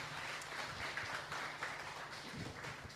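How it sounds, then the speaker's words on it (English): Steady crowd applause with continuous clapping throughout, moderately loud and filling the room without pause. "let's give big applause to Simon."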